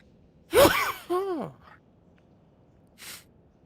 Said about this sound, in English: All day I was fine. All of a sudden, sneezing.